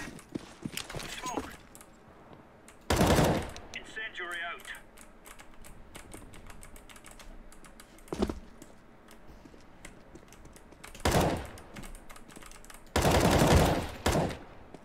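Several loud, sharp bursts of CS:GO gunfire, including a scout rifle shot, stand out against faint clicking and background noise, spaced irregularly, with a heavy burst near the end.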